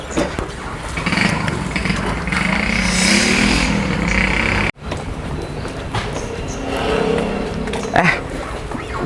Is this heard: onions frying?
no